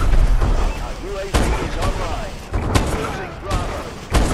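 Sharp, loud explosive bangs in an online first-person shooter match, several distinct booms spaced across a few seconds with rapid gunfire between them, under players talking.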